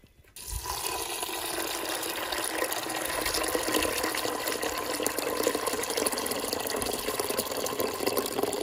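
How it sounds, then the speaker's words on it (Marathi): Water pours into a pot to boil peas for misal, a close, steady splashing gush that starts abruptly after a soft knock and keeps running at an even level to the end. "उदक आणि मीठ हे दोन वस्तू घालून उकडपाचे"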